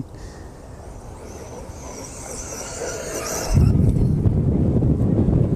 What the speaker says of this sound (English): This wind was not blowing earlier. As soon as I get over here, it blows